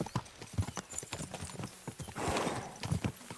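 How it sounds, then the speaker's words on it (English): Horses' hooves clip-clopping in Kingdom Come: Deliverance 2, a steady close rhythm of hoof strikes with a brief whinny-like rise in the middle. "We should spur the horses on."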